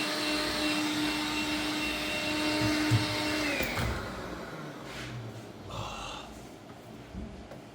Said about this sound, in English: You ever think you'd be watching someone vacuum a carpet on YouTube?